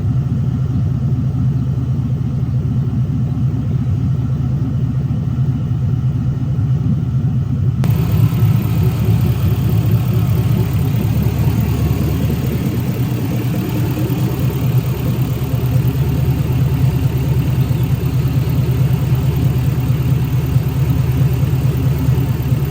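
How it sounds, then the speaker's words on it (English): An LS-swapped Chevy C10 squarebody truck engine runs continuously, a loud, steady low rumble with an even pulsing idle that holds throughout, close up and without voices. "I'm gonna insert a clip of the truck running"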